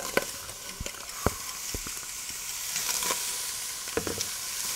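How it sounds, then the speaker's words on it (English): Diced carrots, celery and onion, a mirepoix, hit a hot pan and sizzle loudly, with several sharp clicks and taps of stirring scattered over a bright, continuous hiss. "A combination of 3 ingredients that makes up a mirepoix. Carrots, celery, and onion. So we're going to add these directly to the pan."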